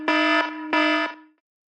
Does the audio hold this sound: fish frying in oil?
no